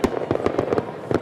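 Fireworks explode at the Salute to America celebration for the nation's 243rd birthday, a loud rapid string of sharp cracking bursts packed close together.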